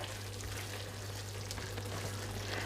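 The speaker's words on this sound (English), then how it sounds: "And just give that a stir." Keema matar, a mince and pea curry topped with fresh coriander, sizzles steadily in a pan while it is given a stir, making a faint, even frying hiss with a low hum underneath and no talking.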